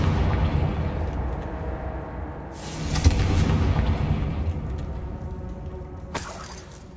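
A fire spell detonates in the Hogwarts Legacy video game, a loud booming blast with crackling debris over a rumbling game soundscape, followed by another sharp burst near the end.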